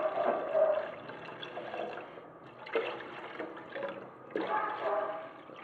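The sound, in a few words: water being poured into a cooking pot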